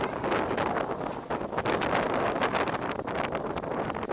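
Steady stormy wind on Islay, Scotland, roars and buffets against the microphone, a dense rushing noise that never lets up.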